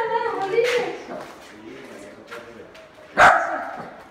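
A guard dog at a ruined house near Cala Morisca in Salou barks twice, nearby and distinct, with a quieter pause of faint sounds between the two barks.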